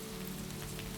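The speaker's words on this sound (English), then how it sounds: "The drizzle's soft patter accompanied her every step" Soft drizzle patters on the basalt stones of the Giant's Causeway, a faint, even hiss of fine drops with no distinct individual hits.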